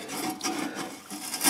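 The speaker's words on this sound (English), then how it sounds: "take your Scotch-Brite or something and try to clean right in front of that burner" A Scotch-Brite pad rubs a furnace flame sensor clean in short, close, scratchy back-and-forth strokes, fairly quiet and brief.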